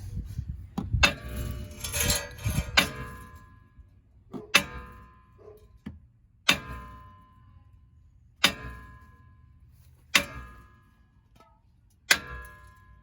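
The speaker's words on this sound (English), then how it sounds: "Got my brass hammer here." Hard metallic brass hammer strikes on a 2016 Grand Caravan rear brake rotor ring out, a quick flurry of blows at first, then single heavy clangs every couple of seconds, each with a short metallic ring.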